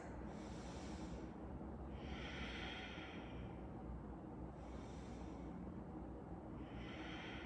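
Slow, quiet nasal breaths during a held yoga pose, about three inhale-exhale cycles with faint airy rushes spaced evenly.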